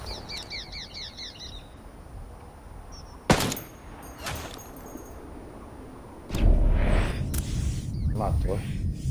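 Gunfire in Ghost Recon Wildlands PvP: a few sharp isolated shots and a burst stand out over a quiet background with birds chirping, followed by louder rumbling noise.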